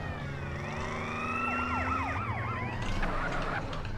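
Several police sirens in the video game GTA: San Andreas wail and yelp at once, rising and falling in overlapping sweeps over a low engine rumble.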